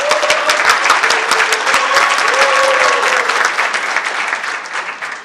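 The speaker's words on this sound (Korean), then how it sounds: "박수 한번 쳐주십시다." A large audience claps steadily for about five seconds at a Korean association presidential election speech, a dense, sustained wash of applause that eases off slightly toward the end.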